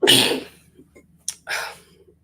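Two sharp sneezes close by, the first strong and drawn out, the second after a short sniff and pause.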